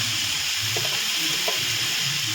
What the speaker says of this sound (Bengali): কিছুক্ষণ আমি নাড়িয়ে নেওয়ার পর এবার আমি এতে শাকটাকে দিয়ে দেবো